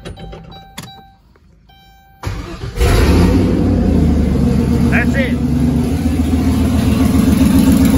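An LS V8 swapped into a turbo Caravan, running naturally aspirated, cranks and catches after a couple of quiet seconds of clicks, then settles into a loud, rough, close idle with slight throttle variations, while a person talks briefly over it.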